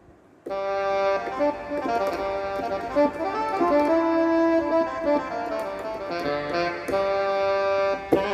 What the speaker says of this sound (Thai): ตัวนี้เป็นเสียงแซกโซโฟน